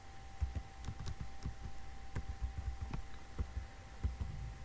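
Keys tapped on a computer keyboard while entering values into an Excel spreadsheet, quick soft irregular clicks over a faint steady electrical hum, close and quiet.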